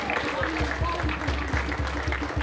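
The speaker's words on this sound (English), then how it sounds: "Please give her a round of applause." An audience at a Hampers of Hope charity event applauds with a dense, steady wash of clapping that stays loud and even throughout, over a low rhythmic thumping hum in the room.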